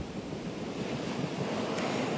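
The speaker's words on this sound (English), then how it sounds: "Still a bit windy there" Steady wind roaring across the microphone with waves washing onto the shore underneath during ex-Tropical Cyclone Kirrily, a continuous blustery wash with no voices.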